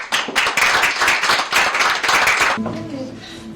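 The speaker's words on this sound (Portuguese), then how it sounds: "Uma salva de palmas" Audience at a Cabo Verde awards event bursts into loud, dense applause and cheering for about two and a half seconds, then it drops away abruptly and quieter sounds remain.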